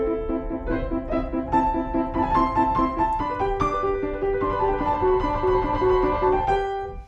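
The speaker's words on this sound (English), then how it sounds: "a trill is basically 2 notes that are next to each other, played really rapidly like this" Piano trill alternating rapidly between two adjacent notes, a steady fluttering shimmer that moves through a few pitch pairs over sustained chords, clear and fairly loud with no talking.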